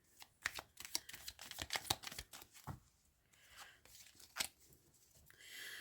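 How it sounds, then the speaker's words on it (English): Tarot cards are shuffled and tossed about during a reading, giving quiet, irregular rustling flicks and slaps close by, with short pauses and no speech. "Me throwing my cards everywhere."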